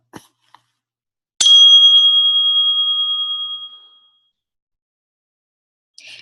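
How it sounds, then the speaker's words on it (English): A single bright bell struck once for a listening exercise, ringing out clear and loud, then slowly decaying to silence over about two and a half seconds, with a few faint taps before and after. "notice when the bell sound ends"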